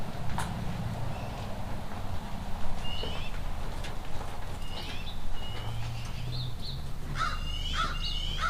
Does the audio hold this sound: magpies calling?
yes